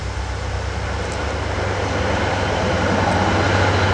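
A New Jersey Transit train passes steadily and close by, a continuous loud rumble with low droning hum that swells slightly over four seconds, with no voices.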